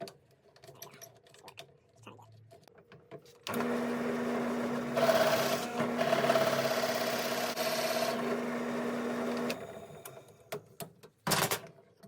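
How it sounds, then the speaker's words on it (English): A power sander runs against a red oak tea light candle holder, a steady close whir lasting about six seconds, with quieter handling knocks before and after. "And I'll sand that out, sand the bottom off."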